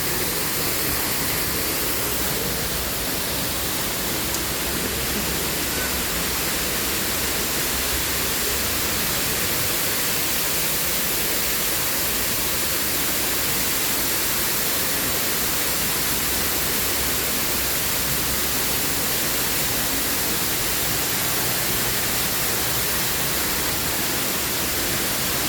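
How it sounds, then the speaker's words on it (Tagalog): The waterfall at Hong Kong Park roars as a constant, loud rush of falling water, a dense hiss that stays unbroken and near throughout without any voices. "Maingay yung tubig."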